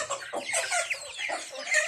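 A fighting-cock breeding rooster vocalizes up close in a continuous run of raspy clucking calls, loud and alone without talk.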